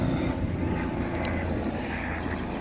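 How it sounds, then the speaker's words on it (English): A steady, broad engine roar from a helicopter passing overhead near a farm fills the whole moment, constant and fairly loud with no clear beginning or end. "Helicopter's going over. I don't know if you can hear it."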